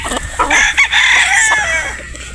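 A gamefowl rooster at a Batangas game farm crows loudly and close by, its long drawn-out call filling most of the clip against steady background noise.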